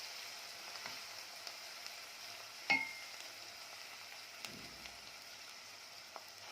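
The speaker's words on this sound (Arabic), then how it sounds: "نبدا نقلب كده" Soft, faint stirring of seafood soup ingredients in a pot, a gentle bubbling hiss with one sharp knock of the spoon on the rim and a few light clicks, heard close with no speech.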